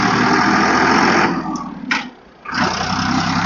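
A Sonalika mini tractor engine runs hard at top speed with a steady, loud, close drone that drops away briefly for about a second before returning just as strong.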